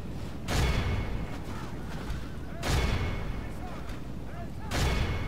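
In Medieval 2 Total War with the Northern Dúnedain mod, missile units loose three separate volleys, each a loud, rolling burst about two seconds apart over a constant battlefield din.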